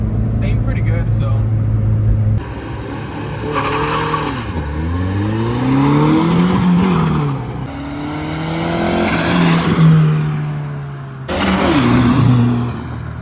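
A turbocharged Honda Civic engine revs repeatedly, climbing and dropping in pitch with loud roaring pulls and brief pauses between bursts, close by.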